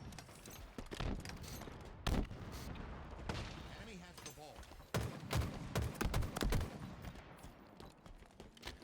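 Dense Halo Infinite gunfire from an Oddball match on the Lattice map, with rapid bursts of shots and heavy thumps layered together. The firing is loud and continuous, and a voice talks over it.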